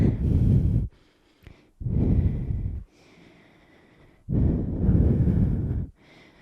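Heavy, forceful breaths rush in and out in a steady rhythm during exercise, close to the microphone, with short pauses between each breath.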